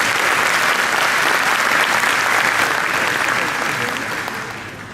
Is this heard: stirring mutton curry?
no